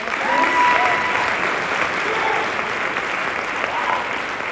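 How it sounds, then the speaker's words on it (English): A large crowd at a county honor band concert claps continuously, a dense, even wash of applause that stays loud for the whole stretch. "That was an awesome round of applause."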